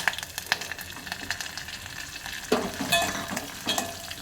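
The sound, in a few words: garlic and dried red chillies frying in oil for rasam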